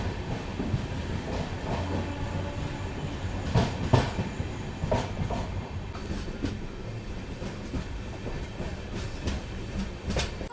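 The Charlapalli Amrit Bharat Express pulls away after being overtaken, its wheels rumbling steadily with repeated clickety-clack beats over the rail joints, heard alone at moderate loudness.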